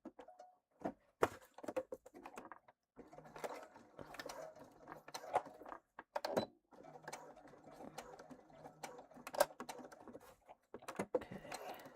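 A sewing machine top stitches fabric at a shortened stitch length, running in short, quiet, intermittent bursts with small mechanical clicks and pauses between runs.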